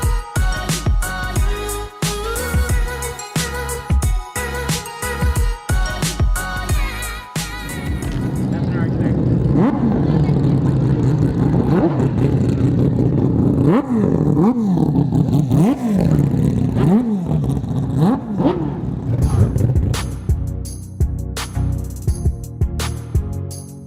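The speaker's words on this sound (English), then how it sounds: "the infamous 4 rotors that were the inspiration for my car, running around the track" Rotary-engine cars, among them four-rotor machines, rev and roar around a track at a rotary car meet, a loud sustained engine din with repeated rising and falling revs, preceded by a stretch of music.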